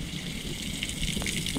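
Storm water streaming beside a house in Crimea during a heavy downpour, a continuous rushing gush close by with a few brief splashes, no talk.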